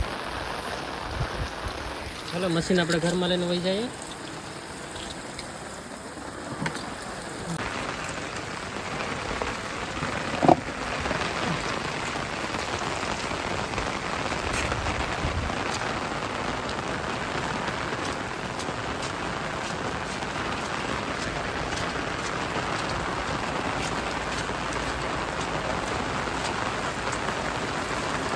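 Rain keeps falling steadily at a farmhouse with a coconut garden, a constant hiss throughout; a brief voice speaks early on, followed by a sharp knock and faint tones over the unbroken downpour.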